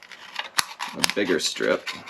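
Scissors cut through a strip of aluminium pop can, giving two sharp, brief snips close by, and someone talks right after them.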